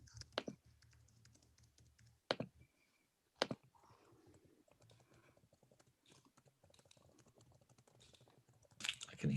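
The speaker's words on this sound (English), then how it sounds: "I can hear typing." Faint typing on a computer keyboard, scattered soft key clicks in a quiet room with a few sharper bumps and clatters breaking through.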